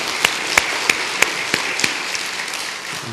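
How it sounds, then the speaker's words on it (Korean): A church congregation applauding during a service, sparse, evenly spaced claps standing out at moderate volume over a roomy background, tapering off after a few seconds. "하나님께 영광의 박수 한번 드리겠습니다."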